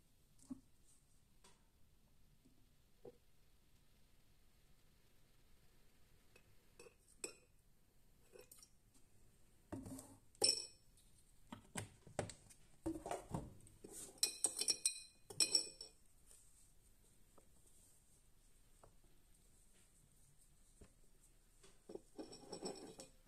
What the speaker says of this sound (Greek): Ανακατεύω λιγάκι